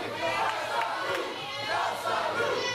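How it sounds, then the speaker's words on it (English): Wrestling fans in a packed New Jersey venue cheer and shout wildly during a woodshed-style hardcore tag match, a dense, steady roar of crowd noise with yells rising above it. "This crowd is going insane."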